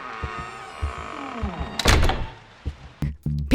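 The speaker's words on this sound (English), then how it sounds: "In the first scene of PT, the door swings open straight by itself" A door in the horror game P.T. swings open by itself with a single heavy thunk partway through, set among low creaks and knocks and a quiet ambient hum.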